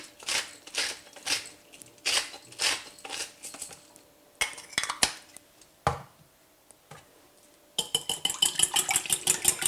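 An egg and milk are mixed in a bowl, heard as bursts of clinking utensil strokes against the dish with short pauses, ending in a quick rapid run of whisking taps.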